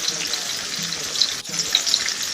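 Onion cooking in a pan alongside salami and plantain, giving a steady, close, continuous sizzle with faint crackles throughout.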